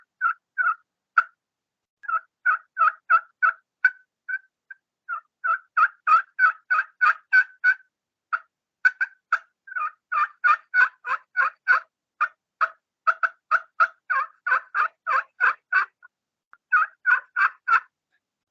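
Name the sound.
turkey call imitating hen turkey clucks and yelp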